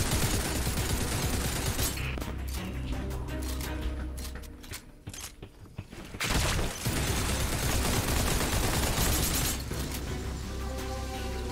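Rapid gunfire in Fortnite aimed at a player's build, dense repeated shots and impacts that stay loud and continuous, dip briefly midway, then resume amid game effects.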